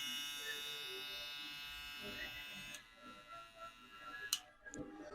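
A TPOB Skull Shaver, candy edition, runs on its high-speed setting with a steady electric buzz for about three seconds, then cuts out, leaving faint clicks and handling noises.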